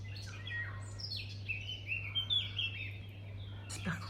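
Birds singing at dawn around a house at about 5:30 in the morning, a series of bright chirps and warbling phrases, moderately close but soft, over a low steady hum.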